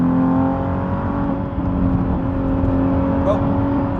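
A Nissan 370Z Nismo on Continental SportContact 6 tyres drives at a steady pace, its engine and road drone holding level and close throughout, with a faint brief chirp near the end.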